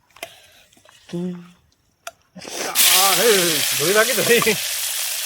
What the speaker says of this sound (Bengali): তারপরে তেলের ভিতরেই মাছগুলো ভেজে নেবো সুন্দর করে।